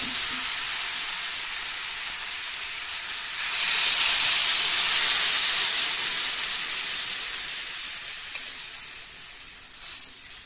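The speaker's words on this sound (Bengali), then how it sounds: "এখন দিয়ে দিচ্ছি জল" Water poured into a hot pan of jackfruit curry sets off a loud, steady sizzling hiss that swells and then slowly fades, with no talking.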